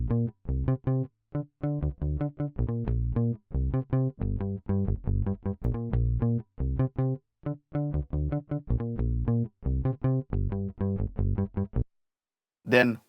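Chorus pattern of a soca beat bass line, played as a busy run of short, punchy synth bass notes in quick syncopated groups, loud and alone, stopping briefly near the end before one last hit.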